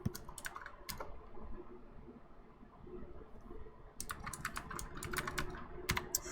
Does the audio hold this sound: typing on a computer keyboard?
yes